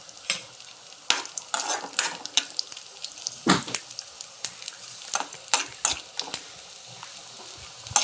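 Food roasting in ghee in a pan, stirred by hand for carrot halwa: steady soft sizzle with repeated scraping and clattering spoon strokes at close range, no talking.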